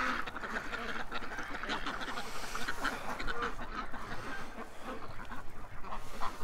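Ducks out in the cold, including one called Magoo, quacking and chattering in a steady overlapping flock noise that stays fairly loud throughout with no pauses.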